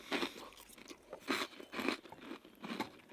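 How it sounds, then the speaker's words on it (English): Someone bites into a crouton served with garlic and Italian parsley sauce, giving about five sharp, close crunches at an uneven chewing rhythm. Quiet pauses fall between the bites. "Have a little crouton with it. Give me a little crunch."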